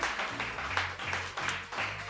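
Crowd applause at a live Christmas special show event, a dense steady wash of clapping over the full stretch with slight swells, under a low hum of background music.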